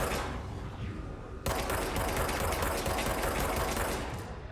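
Sustained gunfire in the video game Control, dense and loud, kicking in abruptly after a quieter opening and continuing as a steady rapid barrage to the end.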